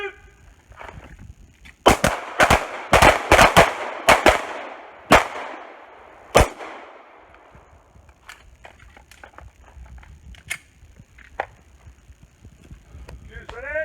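Pistol shots crack sharply in a quick string of about eight rounds on a combat pistol course, loud and close, then scattered fainter pops and range noise follow, with commands shouted around the firing.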